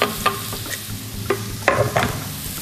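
Diced onion sizzles in hot oil in a pan for a beef jambalaya, with a steady frying hiss and a few scraping stirs of a utensil close by.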